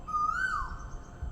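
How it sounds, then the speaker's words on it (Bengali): An Asian koel calls in a Singapore forest: one clear, rising whistled note that swells and fades quickly, fairly close, over a soft hiss of background ambience. "বসন্তের কোকিল আবার ডাকবে।"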